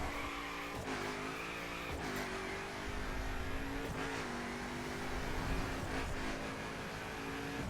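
Mercedes-AMG GT in the racing game The Crew under hard braking, a steady loud engine drone with tonal harmonics that dip and shift several times as the car slows, tyre noise mixed in, no voices.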